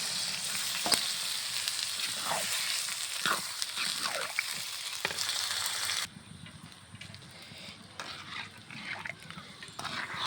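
Curry with gravy is sautéed in a pan with a steady close sizzle and intermittent scraping stir strokes. The sizzle drops quieter partway through and carries on softly.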